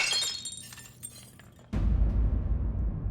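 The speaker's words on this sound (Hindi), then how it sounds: "वो कांच का गिलास पड़ा था पानी का, वो हमारे हाथ से ऐसे गिर गया, वो टूट गया हो" A glass tumbler of water drops and shatters with a sudden loud crash, followed by a dense spray of breaking shards and a low rumble that fades slowly, with no talking.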